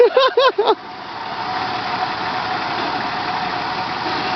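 A Nissan Patrol engine holds a loud, steady mid-pitched drone with slight vibration, close up and unbroken after a few brief vocal sounds at the very start.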